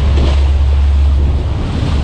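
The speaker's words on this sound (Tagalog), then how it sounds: "Ang lakas ng alon." Strong sea waves churning along a harbour seawall, a heavy low rumble of surging water with wind buffeting the microphone, loud and continuous without any voices.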